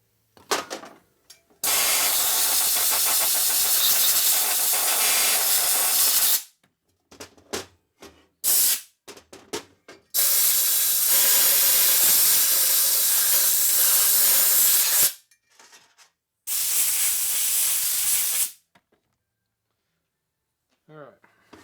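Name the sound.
compressed air blowing grit out of engine case holes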